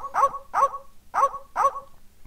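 Dogs in The Secret of Monkey Island adventure game yelp in four short, evenly spaced barks, close and clear with nothing else heard.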